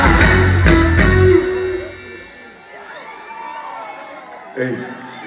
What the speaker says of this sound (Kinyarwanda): amashyi menshi kuri buri nguni